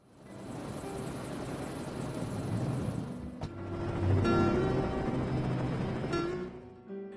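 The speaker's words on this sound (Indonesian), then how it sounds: "Dan helikopter itu pun menjauh secara perlahan." A steady rotor-and-engine drone of a helicopter, loud and continuous, slowly thinning out toward the end as it moves off.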